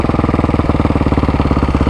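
A Can-Am quad's engine runs at a steady, rapid lumpy idle, close and loud, with an even pulsing throb and no voices.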